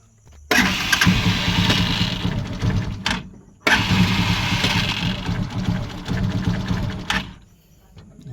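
An engine is cranked twice after a fuel pump check. Each try is a loud, sustained grinding burst of about two and a half to three and a half seconds, with a short pause between them, and the engine does not settle into an idle.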